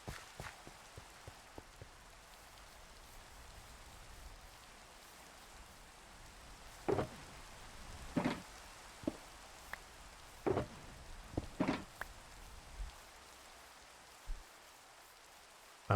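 Rain falls in a Minecraft-style block-building game, a faint steady patter with scattered louder drops and soft taps, with no talking.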